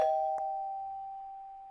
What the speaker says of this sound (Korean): 얘, 초인종 소리 못 들었니?